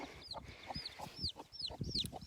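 Unhappy hen on a farm clucking in a quick, agitated series of short calls after her chick is taken, close but fairly soft.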